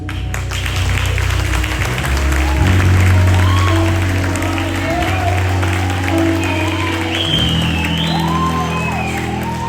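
A large church congregation applauds steadily indoors at a thanksgiving service, with scattered whoops and cheers rising over sustained music, and voices talking underneath.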